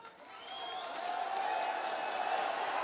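Broad, steady crowd applause building up at a large outdoor political rally for Prime Minister Narendra Modi in Kanyakumari, Tamil Nadu, swelling after a soft start and holding loud throughout.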